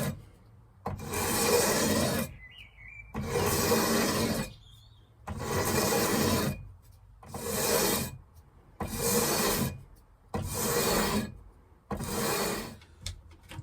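Guitar frets being levelled with 120 grit sandpaper, seven even back-and-forth rasping strokes close up, each about a second and a half long, separated by short pauses.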